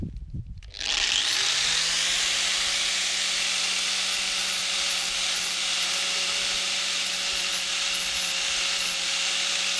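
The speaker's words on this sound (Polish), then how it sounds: "I teraz będę sobie szlifował tą papier ścierny na szliferce." An angle grinder fitted with sandpaper spins up after a brief pause, then holds a loud, steady, high whirring grind as it sands welded steel letters, continuous and close with no voices.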